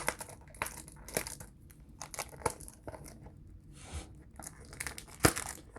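Crinkling, tearing cellophane wrap being pulled off a Mugler A*Men perfume box, a series of close, irregular crackles and rips with a few sharper snaps, fairly quiet, with no talking.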